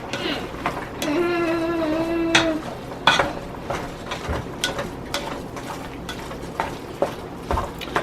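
Cooked ground meat for a meat lovers lasagna is stirred in a pan, giving repeated close scraping and clinking strokes with a soft sizzle, while a person talks over part of it.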